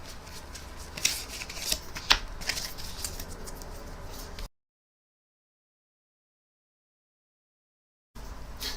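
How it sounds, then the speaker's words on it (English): Playing cards being shuffled up close, a steady riffling flutter with a few sharper snaps, then a stretch of silence before the shuffling resumes briefly. "We both checked and shuffled both packs"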